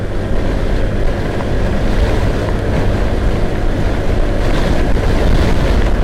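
Strong wind roars and buffets the microphone in a loud, continuous rush, with a low rumble underneath and no voices.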